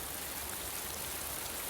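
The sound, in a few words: rain falling in a Mr Men cartoon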